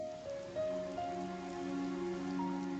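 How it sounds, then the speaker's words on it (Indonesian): Steady rain falls outside, a soft continuous patter with faint sustained tones layered over it and no voices. "Yun Er di luar hujan"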